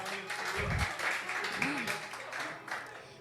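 An audience applauds for Isabela, a fairly quiet, steady patter of clapping mixed with voices talking over it.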